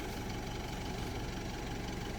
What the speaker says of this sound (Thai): ยกง่ายใช้รถไถคุณแปดเจ้าค่ะ